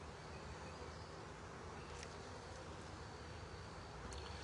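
Honey bees hum in a steady, faint drone at an open hive full of drone comb during a spring hive check, an even buzzing with a couple of louder passes from individual bees.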